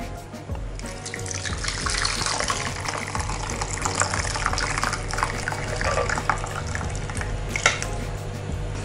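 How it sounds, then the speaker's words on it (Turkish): A vegetable sauce for orange duck pours through a strainer into a bowl, making a loud, continuous gushing stream of liquid from start to finish. "Artık sosumuzu süzebiliriz."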